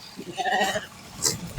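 A flock of sheep bleats as it comes in from pasture to water on a summer grazing ground, a couple of short wavering calls in the middle over a light outdoor background.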